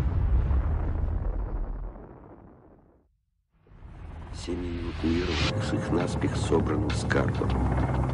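Archival footage of a nuclear hydrogen bomb test: a loud roaring blast and rumble fade to brief silence, then a second swelling roar with crackling bursts and a voice speaking over it.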